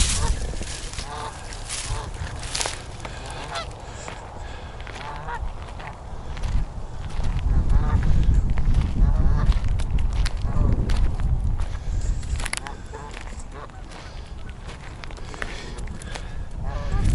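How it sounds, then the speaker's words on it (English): A goose and gander honk beside a suspected nesting area with egg caches, the calls sounding over a steady broadband outdoor noise while a person speaks and footsteps shift nearby. "Got a gander and his goose here, next to the area where I suspected there would be egg caches."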